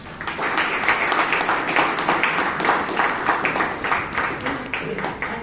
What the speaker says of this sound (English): let us give him one round of applause to Dr. B.R. Ambedkar